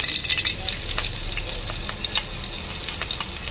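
Ginger fries in hot oil in a pan, a dense steady sizzle with crackling pops and the light scrape of stirring, close and continuous and heard alone.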